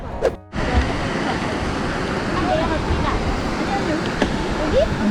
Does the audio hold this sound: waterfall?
yes